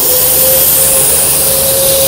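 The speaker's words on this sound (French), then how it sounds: "j'ai un aspirateur eau et poussière, je peux passer directement par-dessus." A wet and dry vacuum cleaner runs over a car seat being cleaned, a loud, steady whining roar with a sustained tonal whine, continuous and alone throughout.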